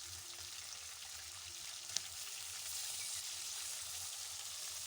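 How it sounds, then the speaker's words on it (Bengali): Fish pieces fry in oil in a pan for a light fish curry, a continuous quiet sizzle and hiss with one sharp click partway through, no voices. "সব মাছগুলো ভাজা হয়ে গেছে, ভালো করে ভেজে নিয়েছি"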